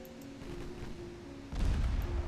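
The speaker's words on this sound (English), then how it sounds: "Normal guns authorized. Target the light cruiser. Blow her out of the water" Naval guns in Ultimate Admiral Dreadnoughts fire at a light cruiser, a deep booming report arriving midway over a low steady hum, with fainter distant thuds before it.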